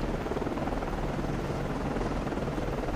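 In the submarine game Cold Waters, a helicopter launches from a Spruance-class destroyer with a loud, continuous rotor thump and engine roar, steady and close for the whole stretch.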